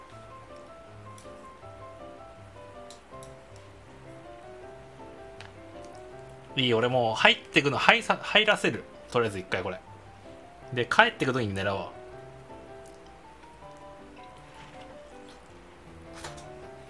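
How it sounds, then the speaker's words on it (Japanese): A waterfall on the Shoreline map of the video game Escape from Tarkov rushes as a continuous, fairly soft wash of falling water, running steadily beneath someone talking over it. "ほらこの滝の音がもうまたなんか釣りっぽいもん"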